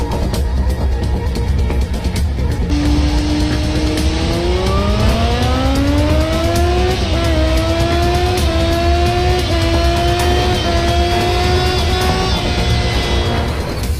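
A car accelerates hard, its engine note climbing steadily in pitch through the gears as a loud, sustained roar that fills the whole stretch with no speech.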